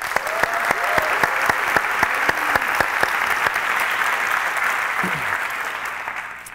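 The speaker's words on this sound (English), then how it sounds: "a round of applause" Conference audience applauds steadily, a dense wash of many hands clapping for several seconds, fading slightly toward the end.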